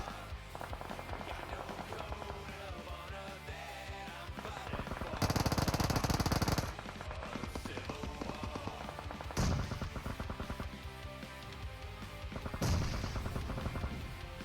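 Gunfire from a DP28 machine gun and grenade blasts in a competitive video game scrim, heard as dense rapid shots under continuous game noise, with a loud sustained burst in the middle and two sharper explosive hits later.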